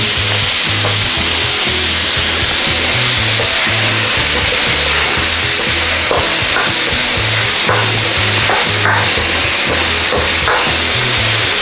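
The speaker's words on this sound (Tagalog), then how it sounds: "Stir po natin siya na another 1 to 2 minutes hanggang sa maluto po yung ating ampalaya" Pork and ampalaya (bitter melon) stir-frying in a pan give off a loud, steady sizzle throughout, broken by the clatter and scrape of stirring, with no one talking.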